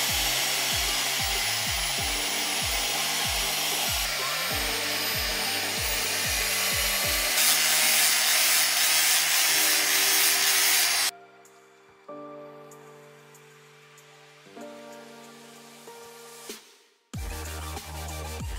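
Pad for a DIY Bluetooth tyre speaker being cut and shaped with a power tool, a loud rhythmic grinding-sawing run of repeated strokes, then a quieter pulsing motor whine, and a final burst of cutting.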